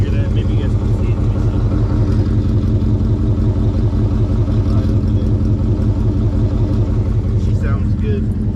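Ford Mustang GT V8 fitted with Texas Speed headers and no cat-back exhaust or H-pipe, idling loud and close with a steady, even rumbling burble that holds throughout.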